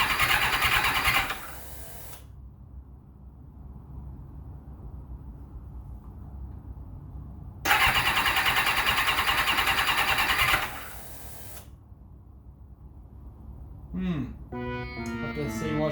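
A Kawasaki ZXR turbo motorcycle engine with bigger injectors cranks over without firing, in two loud bursts of several seconds each separated by quieter background hum, with a brief rising tone near the end.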